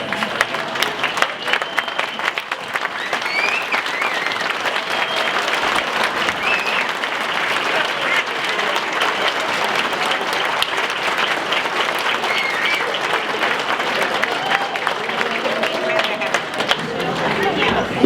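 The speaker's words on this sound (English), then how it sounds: "So let's stand and give them a good applause for everything that they've done." Sustained applause from a standing audience at a resident holiday party, dense and steady clapping filling the room for the whole stretch, with crowd murmur mixed in beneath it.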